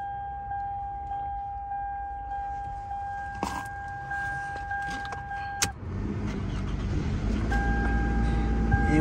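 A 2005 Toyota car with 171,000 miles at an auction: a steady dashboard chime plays, then the engine cranks and catches about halfway through, settling into a loud, close, rumbling idle.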